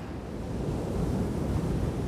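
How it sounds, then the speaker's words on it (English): Ocean waves roll onto the Oregon coast in a steady, broad wash of surf mixed with wind noise, continuous and fairly soft with no voices. "Sometimes the tide is low and the waves are soft, and it's just nice and quiet and peaceful."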